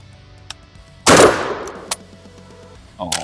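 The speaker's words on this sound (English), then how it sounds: "how about I empty these last 2 rounds and then we try the next load" Semi-automatic 12 gauge shotgun fires a light load outdoors: one loud, sharp blast with a reverberating tail, followed by faint mechanical clicks and a softer burst near the end.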